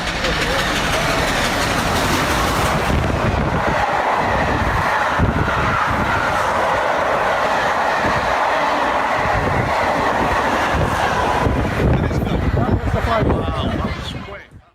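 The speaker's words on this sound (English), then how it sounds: "A train driver once pushed a vintage locomotive well beyond its limits, roaring through a station at 201 kilometers per hour" A vintage locomotive thunders through a station at high speed, a loud, continuous roar of wheels and rail noise that holds steady before dropping away sharply at the end, with a voice talking over it.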